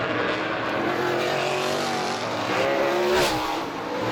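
Race cars on a racetrack during a circuit race round, engines droning loudly and steadily as they accelerate, with a rising whine swelling near the end as a car passes close.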